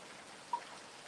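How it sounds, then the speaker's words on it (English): Heavy rain falls in a steady, even hiss of dense drops, with one faint tap partway through. No voices are heard. "That sounds like BC fucking rain."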